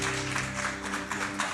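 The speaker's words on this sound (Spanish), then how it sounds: "Le damos un fuerte aplauso al Señor por su vida también" Steady, dense applause from a church congregation fills the room, a moderately loud wash of many hands clapping with a faint musical hum beneath.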